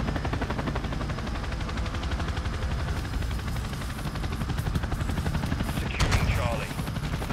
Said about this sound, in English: I'm just gonna sit in the corner here and call in my chopper because why not?